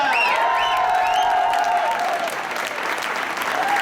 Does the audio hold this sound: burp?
no